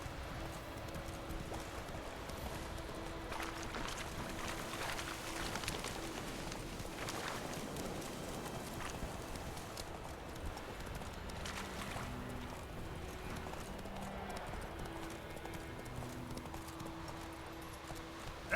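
Horse hooves in the video game The Witcher 3: a faint, steady clip-clop of galloping hooves over a soft wash of wind and water ambience.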